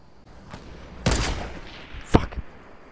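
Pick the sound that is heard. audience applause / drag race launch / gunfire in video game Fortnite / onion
gunfire in video game Fortnite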